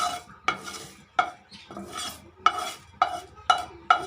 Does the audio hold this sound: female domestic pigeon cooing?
no